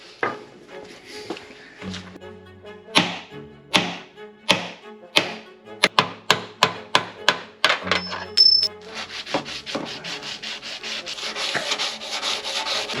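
Repeated sharp metallic hammer blows on a Porsche 964 Turbo part, a steady run of about a dozen loud, close strikes followed by a denser burst of rapid knocks and scraping.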